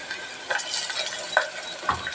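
Ginger garlic paste frying in a pan for mutton curry, a faint steady sizzle with a few soft stirring clinks and scrapes, no talking.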